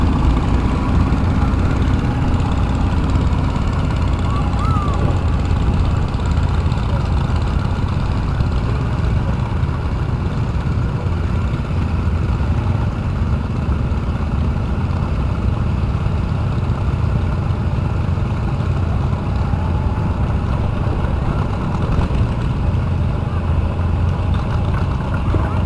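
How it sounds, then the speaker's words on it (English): A 1948 Cockshutt 30 tractor engine runs steadily at a hometown show, a continuous low rumbling drone heard close and fairly loud for the whole stretch, with outdoor background noise. "Coming up, we have a 1948 Cockshutt 30, driven by Bob Wyatt from Keller, Texas."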